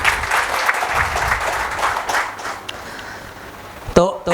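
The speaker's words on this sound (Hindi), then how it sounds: "तो इसके लिए एक जोरदार ताली हो जाए आप लोगों के लिए" Audience applause at a health talk and water demonstration, a dense steady wash of clapping from a crowd that holds for about four seconds before breaking off into a brief sharp noise.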